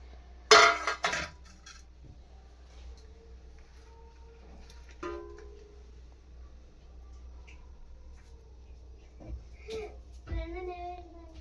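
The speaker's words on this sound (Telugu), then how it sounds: "ఇవన్నీ ముక్కలు కూడా వేసేస్తున్నాం సొరకాయ ముక్కలు" Pieces of bottle gourd dropped into a metal mixer jar give a sharp clink at the start and lighter knocks later, mixed with quiet talking and kitchen clatter.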